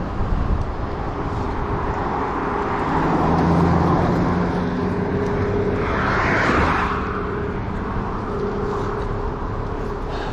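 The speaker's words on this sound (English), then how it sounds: "which is busy, lots of traffic noise" Busy road traffic on a hill climb in Gig Harbor, heard from a bicycle: a steady broadband roar of passing cars with one vehicle swelling louder and nearer midway, no talking.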